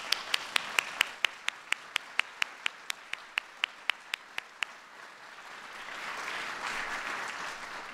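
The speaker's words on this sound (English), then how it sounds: "We'll give you a round of applause." Applause at a museum and library national medal award ceremony: a few sharp individual claps at first, then a broad, sustained wash of clapping from the audience that swells and holds to the end.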